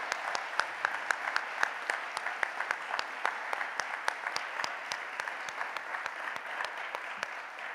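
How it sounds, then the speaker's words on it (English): A ceremony audience gives a dense, continuous round of applause for the 2023 5 Under 35 literary honorees, with many hands clapping at an even level throughout. "huge round of applause."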